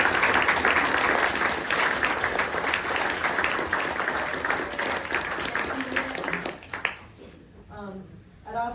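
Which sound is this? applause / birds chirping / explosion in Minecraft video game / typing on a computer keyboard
applause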